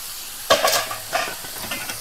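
Meat dropped into a pan of finely ground spices and pepper on a new clay stove, giving a sudden sharp sizzle followed by a few shorter bursts of frying and stirring.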